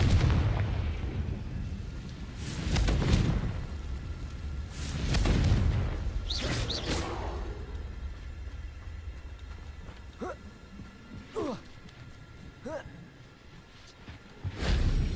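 Confringo blasting spells explode in the Hogwarts Legacy video game, several heavy booming blasts with rumbling tails and whooshes spaced a few seconds apart, then sharper crackling hits, mixed with game voices.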